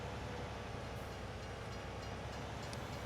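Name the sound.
train passing in Farming Simulator 19 video game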